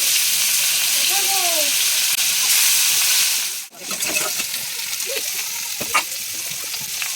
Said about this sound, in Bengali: এখানে তেল গরম হয়ে গেছে পেঁয়াজ দিয়ে দিচ্ছি